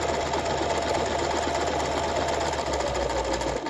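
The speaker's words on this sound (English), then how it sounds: "The most important part about stitching the buttonhole, other than the tension, is that the garment is being transported consistently or evenly throughout the entire length of that buttonhole." A sewing machine stitches a buttonhole into a garment, a steady, close, continuous mechanical whir and rapid needle clatter running without pause, no voices.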